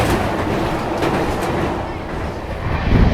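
Gondwana Superfast Express rushing through Dholpur Junction without stopping, a loud, steady roar of rolling wheels and carriage rumble heard close from on board, with a faint voice underneath.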